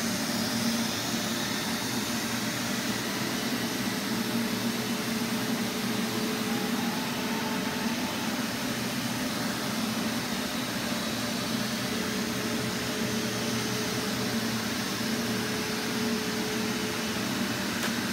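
Neato and Samsung Powerbot robot vacuums running together, a steady loud whirring drone with constant motor hum and no pauses.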